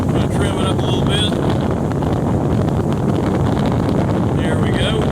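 A 2018 Tracker TX 175 boat driven by a 60 hp Mercury four-stroke outboard cruises straight ahead, with a steady, loud engine drone, rushing water and wind buffeting the microphone throughout.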